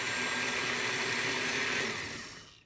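A blender blitzes soft cooked berries in a steady, loud whirring run that holds for about two seconds and then winds down toward silence.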